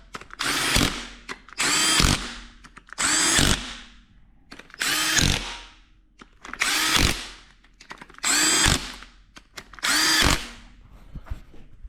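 A power tool drives engine valley cover bolts on a junkyard 5.3 LS build, seven loud buzzing bursts of about a second each, separated by short quiet gaps.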